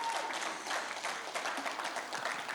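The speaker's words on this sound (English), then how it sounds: "Everyone, round of applause for Kaikoura Valley College" An audience at a school speech competition claps for a college team, a fairly faint but continuous patter of applause with no voices over it.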